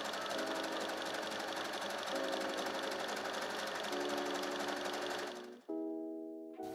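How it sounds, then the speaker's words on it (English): A sewing machine runs steadily as it stitches knit fabric pieces along side and top seams, a close, even mechanical whir that halts abruptly near the end before a brief restart. "I'm going to pin and sew these pieces together down the sides and top seams."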